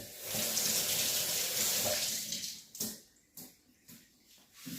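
Tap water runs into a kitchen sink to wash cherry tomatoes, a steady rushing stream that stops partway through, followed by a few brief splashes and handling noises.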